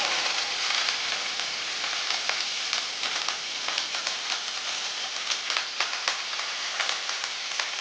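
Curry leaves fry in hot oil for a chicken pepper curry, a loud, continuous crackling sizzle with dense pops throughout.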